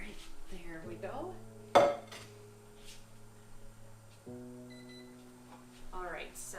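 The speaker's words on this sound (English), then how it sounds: "so I will get out our wok. Sorry, it's gonna be loud." A wok is pulled out among pots and pans with one sharp metallic clang and lighter clinks and scrapes. A voice talks over the clatter.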